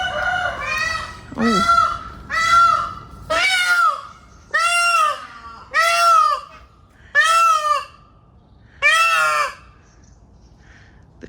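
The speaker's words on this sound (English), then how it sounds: "The cockerel and the peacock talking to each other there." A rooster and a peacock calling back and forth, about seven long harmonic calls in a steady sequence, loud and close, with a brief spoken exclamation early on, in an autumn park in Gateshead.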